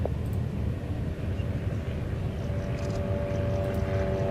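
A fixed-wing aircraft takes off at the Royal International Air Tattoo, a steady broadband engine roar holding at moderate distance with a faint rising tonal whine, no voices.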